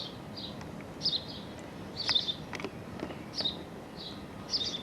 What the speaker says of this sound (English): You can see the little birds inside chirping, wanting their mama to come and feed them supper.